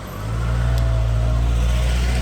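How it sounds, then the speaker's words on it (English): A big truck's engine revs hard on a rough road in Costa Rica, a steady loud low drone that swells in the first moment and then holds strong and close, with no talk. "So, despite it is a big truck, it had trouble getting through."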